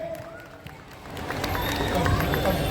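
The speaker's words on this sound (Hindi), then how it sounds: "जोरदार स्वागत, जोरदार तालियों" An audience at a party meeting in Ulhasnagar applauds a welcome, a dense, steady wash of clapping that swells gradually and stays moderately loud throughout.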